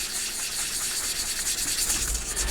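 Fine-grit sanding stick rubbed with water over a HobbyBoss 1/48 F-14D Super Tomcat model kit, a steady close, soft hissing scrub with faint rhythmic strokes throughout, no talking.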